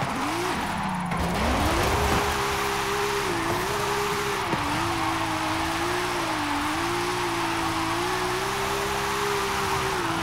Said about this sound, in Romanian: drift pe all-wheel drive cu full spec